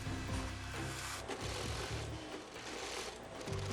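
Industrial sewing machines stitching military CADPAT jackets at a busy factory sewing station, a steady mechanical whir with rapid needle chatter and short bursts of stitching running continuously throughout, loud and close.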